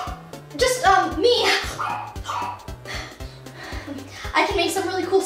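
A person imitates a dog's bark with their voice, producing a steady run of short, loud, evenly spaced woofs throughout, with some other voice sounds mixed in.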